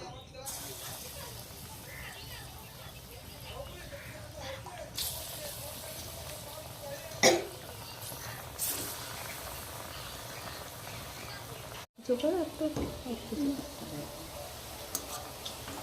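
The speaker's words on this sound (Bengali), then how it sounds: "আর এবার তেলে ভেজে নেব" Mashed banana fritter batter frying in hot oil gives a quiet, steady hiss and sizzle, broken by a few sharp clicks and a brief dropout near the end.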